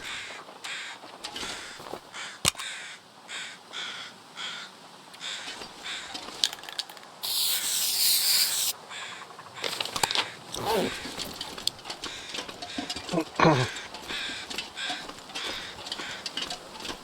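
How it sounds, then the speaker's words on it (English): Crows caw repeatedly in the video game The Long Dark, a run of harsh calls, some near and loud and others farther off, over a steady outdoor background. "Oh, that's the birds."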